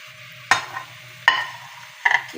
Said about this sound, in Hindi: अब इसमें ये प्याज डाल देंगे